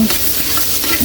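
Garlic and onion sautéing in a pan for creamy chicken with kangkong: a loud, dense, continuous sizzle heard close up, with faint stirring and no voices.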